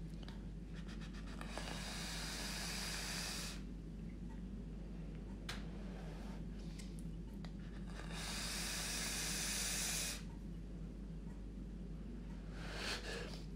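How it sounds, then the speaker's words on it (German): Vaping on a Steam Crave Aromamizer Plus RDTA fitted with Tasty Ohm coils, long airy hissing draws in two main bursts with short puffs between, heard close over a constant low hum. "ich dampfe ihn jetzt einmal"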